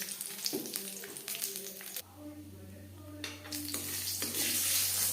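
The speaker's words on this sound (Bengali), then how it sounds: "আর দিয়ে দিলাম সরষার পনেরো কুড়ি সেকেন্ড ভেজে নেওয়ার পরে গ্যাসের ফ্লেমটা বন্ধ করে দেবো" Mustard seeds and five-spice seeds crackle in hot oil for a tempering for vegetarian broccoli khichuri, a steady sizzle with bursts of popping, a low hum underneath from about midway.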